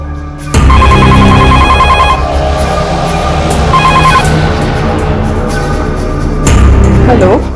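A landline telephone bell rings loudly and steadily in a home, with repeated trilling bursts close by and a brief pause before ringing resumes.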